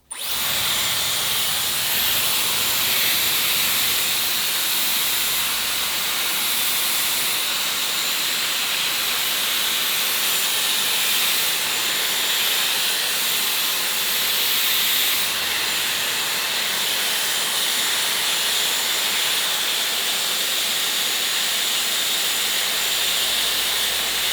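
A Dyson Airwrap styler on heat level 3 and speed level 3 blows hot air while curling hair, giving a steady, loud, airy hiss that runs unbroken throughout with no talking.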